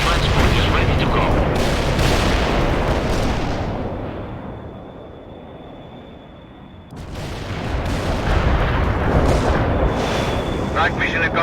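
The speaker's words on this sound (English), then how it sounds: "Anti-tank strike is inbound." Loud explosions from an anti-tank strike in the World in Conflict video game, heavy rumbling blasts that ease off midway then return just as strong, with radio-style voices talking over them.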